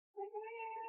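A single short cat meow, clear and close against silence.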